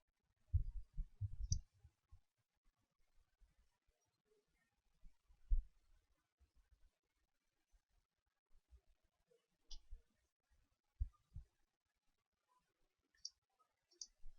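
Sparse, quiet mouse clicks during a software setup, isolated single and double taps scattered over a mostly silent stretch.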